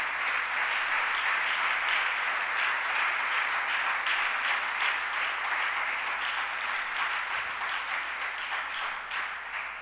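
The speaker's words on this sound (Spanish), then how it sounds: "Denle un aplauso fuerte al Señor" Congregation applauding in a church service, a steady wash of many hands clapping at moderate distance, sustained without a break throughout.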